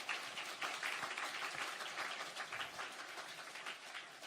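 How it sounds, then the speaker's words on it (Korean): A church youth congregation claps in welcome for newcomers during a Sunday service, a dense, steady applause from many hands at moderate distance, fading slightly toward the end. "우리 잘 오셨다고 우리 박수로 한번 더 환영하겠습니다"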